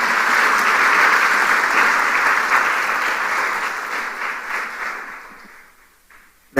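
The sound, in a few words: congregation applauding in church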